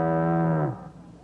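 A single cow moos clearly and fairly close, one long sustained low call that fades out after about two-thirds of a second, with no talking over it.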